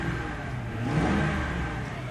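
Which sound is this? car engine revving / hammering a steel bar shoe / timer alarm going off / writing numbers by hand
car engine revving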